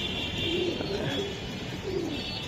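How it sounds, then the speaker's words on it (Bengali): Racing pigeons coo in a club loft where they are bred and sold, with soft, low repeated coos at close range over a steady background hiss. "প্রত্যেকটা কবুতর সুন্দর"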